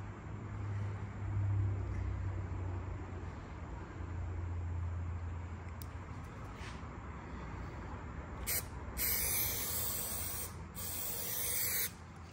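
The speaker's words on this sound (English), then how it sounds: "Now it's the same thing, spray the bottom of it." A spray can hisses in a long continuous burst against the underside of a Valley pool table rail, followed by a few short, louder sprays near the end; no one speaks.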